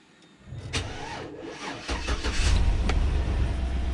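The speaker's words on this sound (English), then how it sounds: "So we're going to start it up." A 2007 Chevrolet Suburban with a faulty crank position sensor cranks briefly, then catches and settles into a steady, loud idle rumble close by, with no talking.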